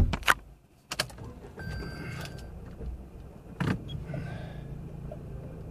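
A Toyota Corolla is handled outside a shop: a few sharp clicks and door or key clunks come first, then the engine turns over and settles into a low, steady idle rumble as the car creeps slowly forward.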